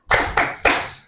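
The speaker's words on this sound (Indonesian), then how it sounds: "Tepuk anak Indonesia hebat." Children clapping a chant rhythm in an Indonesian third-grade classroom, three sharp claps close by with no voices over them.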